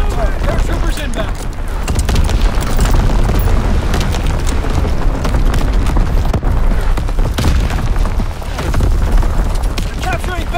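Strafing run in Call of Duty: WWII: a loud, continuous barrage of explosions and rapid impacts pounding throughout, with voice callouts mixed into the chaotic battlefield din.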